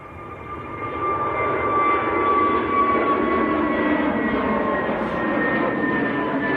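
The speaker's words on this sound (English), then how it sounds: "Next to go, rolling now, Easyjet to Hurghada down in Egypt" An EasyJet Airbus A320neo bound for Hurghada rolls for takeoff, its jet engines swelling into a steady, loud roar with a sustained whine running through it, and no voices over it.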